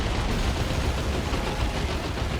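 An autocannon fires in the strategy game Dawn of War 2: Retribution during a 1v1 match, a dense, continuous rattle of loud rapid shots packed tightly together across the whole span.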